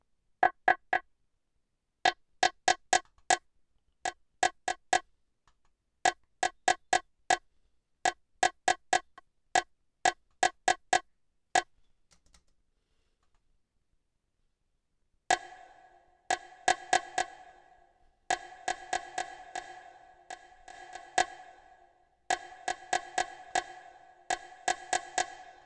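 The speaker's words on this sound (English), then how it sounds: "I'm gonna put a delay on it, actually a sample delay, and I'm going to put this on like 10-10 and just play it" A programmed beat mixed in Logic Pro X runs through a sample delay: sharp, clicky ticking hits in quick repeating groups, a short pause, then denser hits with smeared echo tails filling the gaps between them.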